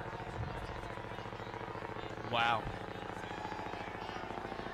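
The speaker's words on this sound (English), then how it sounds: "we got a chopper up ahead. You can hear that bad boy." A low-flying helicopter passes near a high school football game, its rotor chop a steady dull throb under crowd noise, with one voice exclaiming briefly in the middle.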